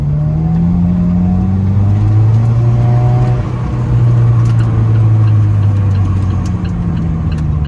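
An Alfa Romeo 4C sports car engine hums and revs steadily while driving, pitch rising and falling with gear changes, close and fairly loud with road noise underneath.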